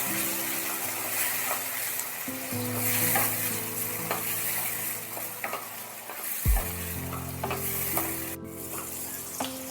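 Chopped tomato added to hot oil with capsicum fries in a pan, a continuous close sizzle broken by stirring clinks and scrapes, with no voices.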